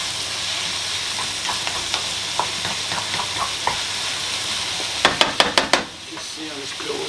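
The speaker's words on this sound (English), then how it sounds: "You can hear it sizzling, it's come to temperature" Steady frying sizzle of an omelette in a pan fills the clip, with scattered crackles and a few sharp clinks of a utensil near the end.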